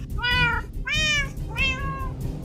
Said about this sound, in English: I got interrupted by a cat intruding at our base